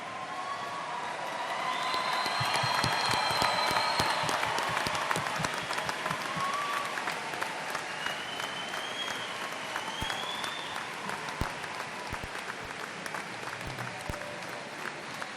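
A large commencement crowd at a university spring graduation claps continuously in a dense, sustained wave of applause with scattered whoops and cheers rising above it, loud and full throughout.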